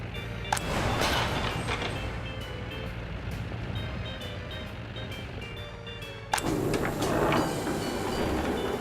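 A train in the game Workers and Resources rumbles and clatters steadily with repeated high beeping tones, a sudden louder burst of rolling noise near the end, no speech.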